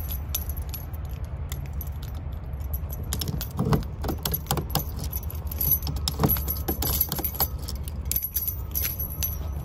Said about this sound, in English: you have to try each key until you find one that turns